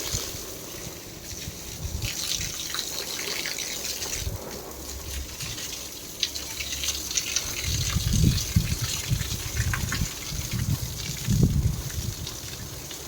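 Water gushes continuously from the pipe of a motor pump, a steady rushing splash that swells into louder surges partway through and again near the end.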